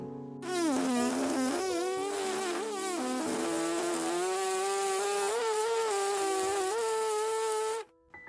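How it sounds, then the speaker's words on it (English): A cartoon unicorn lets out a long, loud, buzzing fart. It wavers in pitch for about seven seconds before stopping suddenly. "gulped and then farted"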